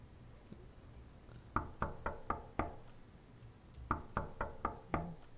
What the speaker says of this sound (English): Knocked on the door, but no one answered.